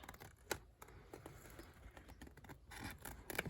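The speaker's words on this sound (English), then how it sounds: "And then I'll come in with the contouring scissors." Quiet, crisp snips of contouring scissors cutting during folio construction, a few sharp clicks scattered irregularly over soft background rustling.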